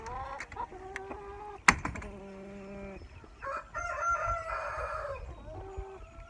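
Brahma chickens in a coop cluck and crow, with a sharp close squawk early on and repeated drawn-out calls and clucks overlapping, loud and near, in a morning farmyard setting with no speech.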